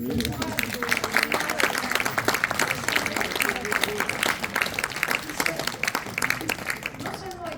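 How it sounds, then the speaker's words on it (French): Applause from an audience at a Jewish book fair talk, dense and steady clapping throughout with voices talking over it. "je voudrais quand même qu'on applaudisse le courage"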